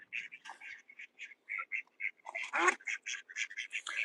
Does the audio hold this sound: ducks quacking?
yes